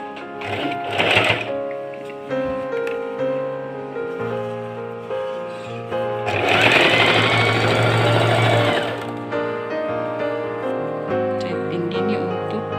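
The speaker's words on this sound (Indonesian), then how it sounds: "Sekarang ini saya akan jahit dinding supaya kain lapis tanahku tidak terbuka" Sewing machine stitching a fabric seam on a traditional Kadazandusun garment, sewn half an inch in to keep the lining from opening. A loud mechanical run of stitching swells midway between quieter stretches, over steady background music.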